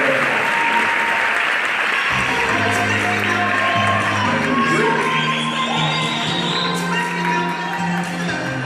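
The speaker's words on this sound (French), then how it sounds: "Encore un grand applaudissement, s'il vous plaît." An audience breaks into loud sustained applause with scattered cheers, a thick wall of clapping hands joined partway through by voices calling out and a rising hubbub, continuing evenly to the end.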